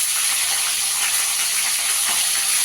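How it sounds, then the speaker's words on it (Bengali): Cauliflower fries in hot oil with a steady, dense, even hiss that holds at the same level throughout, close and without any talk. "এবার এই তেলে ফুলকপিটা ভেজে নেব।"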